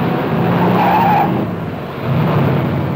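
A 1965 Oldsmobile Delta 88 with Super Rocket engine and Turbo Hydromatic transmission pulls away hard from a standing start, engine roaring loudly with a swelling, squealing surge and a brief dip before rising again.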